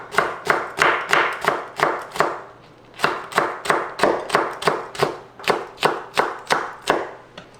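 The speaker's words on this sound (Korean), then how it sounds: "이렇게 송송 썰게요." A knife chops vegetables finely on a cutting board for spicy stir-fried chicken feet, in quick steady strokes, about twenty-two close, crisp thuds, with one brief pause partway through.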